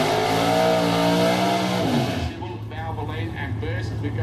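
A 1957 Chevy with a 632 cubic inch engine does a burnout on a South Australian drag strip, its loud sustained engine roar holding steady before dropping away, with a commentator talking over it.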